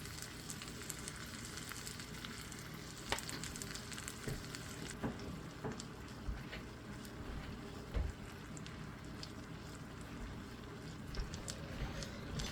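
Eggs sizzle and fry in a pan for a breakfast with sausage and potatoes, a steady close crackling hiss with scattered pops, fairly quiet and continuous, almost without talk.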